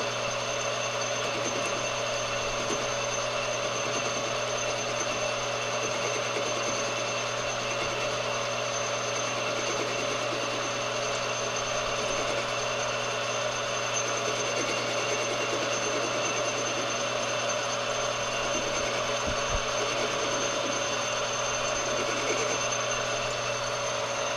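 Metal lathe machining a half-inch part from car stock, a steady close mechanical hum with a constant tonal whine and faint intermittent scraping, running alone without talk.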